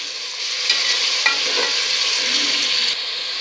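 Mutton fries with onions in a pan, giving a loud, close, steady hiss with a few brief stirring scrapes over the sizzle.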